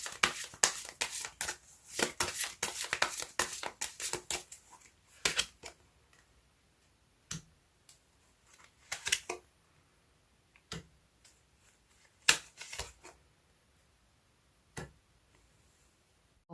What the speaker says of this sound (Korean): 이번 달 그 사람과 여러분은 어떤 관계가 될지 카드 뽑아보도록 할게요